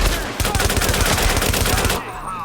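Rapid automatic gunfire in the Tom Clancy's The Division video game, a loud, dense burst of overlapping shots lasting about two seconds, then fading to a quieter tail.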